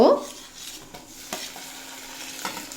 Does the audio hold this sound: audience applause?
no